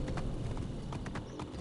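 Horse hooves clip-clop along a road in Assassin's Creed Origins, quick rhythmic beats close by over a low rumble of ambient game sound.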